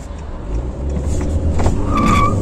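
A new Honda Accord with a 1.5 turbo petrol engine of 190 horsepower accelerates on a test drive, a steady low engine drone rising in pitch as heard from inside the cabin.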